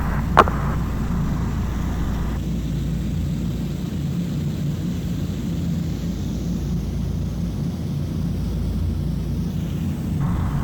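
A steady, droning rumble of B-29 bomber propeller engines in flight, heard from inside the aircraft, continuous and even, with a short sharp click near the start.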